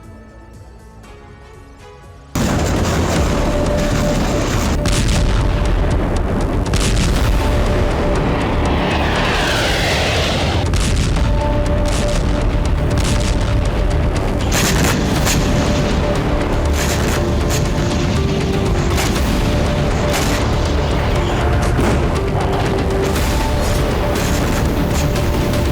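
A Ukrainian attack on Sevastopol, Crimea, sets off a sudden loud, roaring blast that turns into sustained heavy rumbling with a rising and falling whine partway through, continuing at high level throughout.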